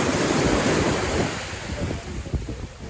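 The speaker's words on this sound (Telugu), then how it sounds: "అలల సౌండ్ విన్నారా?" Night-time sea waves at Rameswaram break and wash up the shore, a loud whooshing surge that fades into scattered splashes, with wind rumbling against the microphone.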